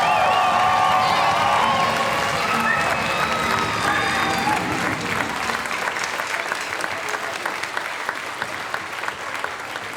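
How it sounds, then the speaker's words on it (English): An audience at a school spring arts festival gives students a long, loud round of applause, a dense steady wash of clapping with scattered cheers and crowd noise throughout. "can we give another huge round of applause for our incredible"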